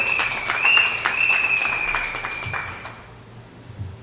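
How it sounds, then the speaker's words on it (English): A live evening audience at a St Augustine venue breaks into applause, steady clapping with a thin whistle-like tone riding over it, easing off and fading out after about three seconds. "Give her a round of applause"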